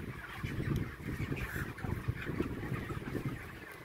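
A flock of chickens on a village farm clucks and squawks in overlapping bursts, moderately close and fairly faint, with no talk over it.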